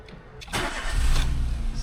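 A car engine cranks briefly and then catches, settling into a low, steady running rumble close by as a voice talks.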